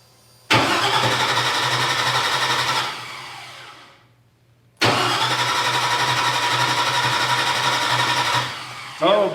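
The engine of a Bombi vehicle runs loudly and steadily for about two seconds, then winds down and dies. A second attempt brings it back to the same steady roar, followed by a brief burst at the very end.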